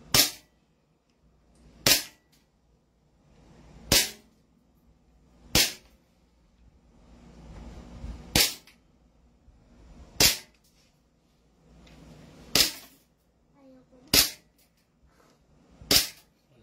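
Nine sharp gunshots fire at a steady pace about two seconds apart, each loud and close with a quick decay, and a faint murmur of activity lies between them.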